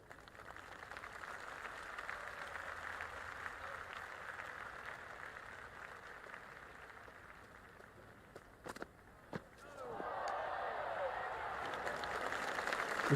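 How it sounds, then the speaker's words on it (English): Crowd ambience at an Ashes Test match between Australia and England in the video game Cricket 26: a steady, faint murmur of a large stadium crowd that swells louder near the end, with a few sharp knocks mid-way. "there's a fantastic crowd ambience at the moment"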